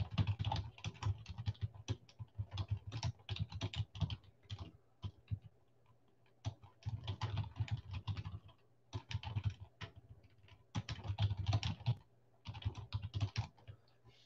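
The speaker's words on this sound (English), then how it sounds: "Let me type it up." Steady bursts of typing on a computer keyboard clatter close by, quick runs of keystrokes separated by short pauses, with no talking.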